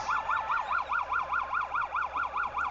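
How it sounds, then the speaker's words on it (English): A police siren rises and falls in a fast, steady cycle, sounding somewhat distant and heard on its own. "So Shanks hear the police sirens going there in the distance"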